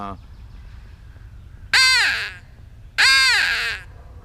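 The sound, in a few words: crow call imitating crow caw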